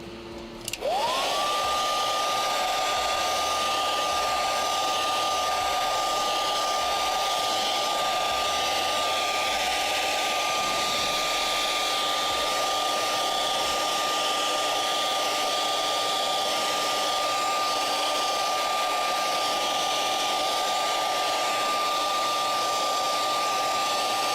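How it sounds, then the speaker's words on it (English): A hair dryer runs steadily on its cool setting with the heating element switched off, blowing plain air in a loud continuous whir with a constant tone, close by and alone for the whole stretch. "I'll use a hairdryer and turn off the heating element, because heat will actually reactivate the glue"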